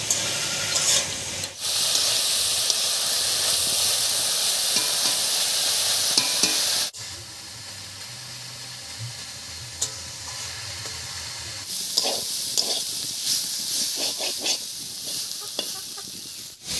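Chopped banana flower (mocha) with a little salt and turmeric cooks in a pan, giving a steady loud sizzle and hiss with occasional stirring scrapes as the water dries out.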